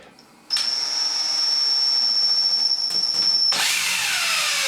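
A power drill starts abruptly and whines steadily at a high pitch for several seconds while drilling slowly through a bathroom ceiling cladding panel, then its tone shifts harsher as the bit cuts through.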